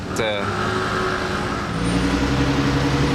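A grey Porsche 918 Spider supercar moving through Monaco streets, a loud, steady engine drone close by that deepens and swells in the second half, with a brief whine at the start and people talking over it.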